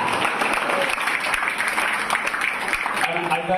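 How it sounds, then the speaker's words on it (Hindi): Church congregation applauding during a Hindi-language sermon, a steady dense patter of many hands clapping at moderate level throughout, with no pauses. "आपके तालियां इतना कंजूस लग रहा है"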